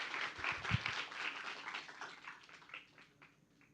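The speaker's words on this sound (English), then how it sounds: "Give applause to them" Applause from a group, loudest at first and then thinning out as the clapping fades away, heard from a little distance.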